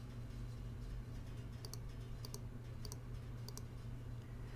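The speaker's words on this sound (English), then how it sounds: "I'm just going to hit the arrow keys." Four crisp, evenly spaced clicks of arrow keys on a computer keyboard sound close and quiet over a steady low hum, with no speech.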